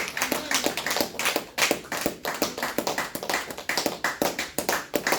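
A church congregation applauds during a Sunday service, with many hands clapping steadily and loudly in a rhythmic, sustained burst that fills the room.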